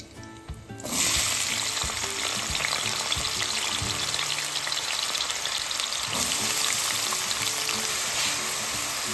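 Potato pieces drop into hot oil where cauliflower has been frying, setting off a sudden loud, steady sizzle that carries on evenly, with a brief dip and renewed surge partway through.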